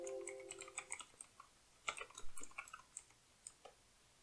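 Typing on a computer keyboard while naming a new folder, with quiet, irregular key clicks in short bursts and a few louder taps, close and alone with no talk.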